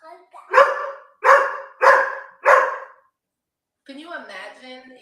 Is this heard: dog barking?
yes